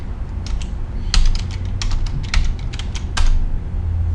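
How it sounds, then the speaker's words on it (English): A command is typed on a computer keyboard: quick bursts of crisp key clicks with short pauses between them, close and clear, with no voices. "now you go into your command prompt and then you type in scrappy crawl tutorial"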